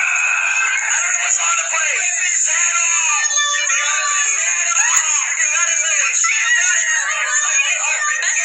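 High-pitched, loud screaming carries on for several seconds over thin, band-limited streamed audio, with voices overlapping and shrieks rising and falling throughout.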